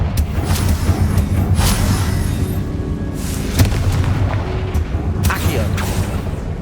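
An explosive spell in the Hogwarts Legacy video game sets off a series of booming blasts and sharp bursts amid continuous rumbling combat noise, with a voice talking over it.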